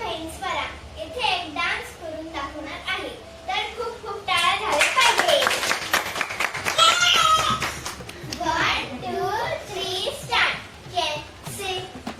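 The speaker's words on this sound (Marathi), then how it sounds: "टाळ्या टाळ्या टाळ्या" Family members clap at a Raksha Bandhan gathering, a strong burst of rapid applause swelling in the middle of the scene amid children's voices and lively talk before and after.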